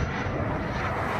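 A Freewing twin 64mm F-14 RC jet flies past at about half throttle, its electric ducted fans giving a steady, broad rushing roar throughout.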